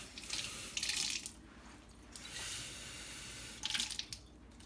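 Water runs into a sourdough starter with flour in short splashing bursts, pouring and stopping a few times, close by and moderately loud, with no voices.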